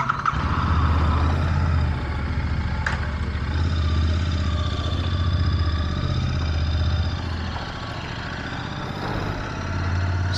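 A Royal Enfield Continental GT 650 motorcycle rides along with a steady low engine drone, loud and continuous throughout, with no talking.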